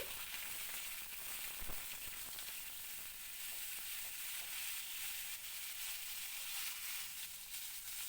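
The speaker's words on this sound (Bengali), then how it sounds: "এবার এই ফুলকপিগুলোর সাথে আমি আলুগুলো দিয়ে দেব এর মধ্যে দিয়ে ফুলকপি আলুকে হালকা লাল করে ভেজে নেব" Cauliflower florets and potato pieces fry in a pan, giving a steady, fairly quiet sizzle and hiss with the occasional soft scrape of stirring. No one speaks.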